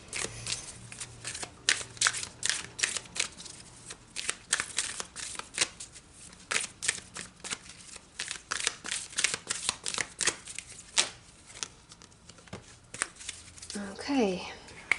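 A deck of Isis Oracle cards is shuffled up close in repeated soft riffling and slapping bursts with an irregular rhythm, followed by a brief voice-like sound at the very end.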